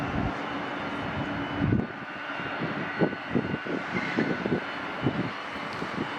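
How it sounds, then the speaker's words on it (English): A 27-year-old Airbus A320 narrow-body jet at LAX gives off a steady, broad engine roar heard from a distance outdoors, with some wind buffeting at the microphone and no talk. "That is ancient for a narrow-body aircraft like this."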